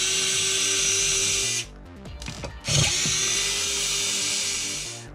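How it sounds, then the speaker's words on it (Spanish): An electric screwdriver spins out black screws from an Xbox Series X chassis. Its loud, close, high motor whine runs, cuts off briefly with some clicking handling noise, then resumes steadily and tapers at the end. "Quitamos estos tornillos de color negro."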